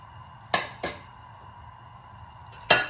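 A utensil scrapes and clinks against a cooking pan while urad dal is stirred, three sharp metallic knocks spaced apart over a quiet background.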